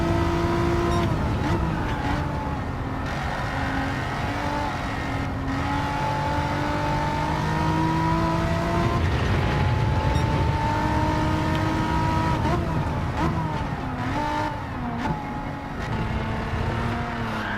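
A race car in Gran Turismo 7 revs hard through the gears, the engine note climbing and dropping repeatedly with shifts, loud and close throughout for the whole lap stretch, with no talk.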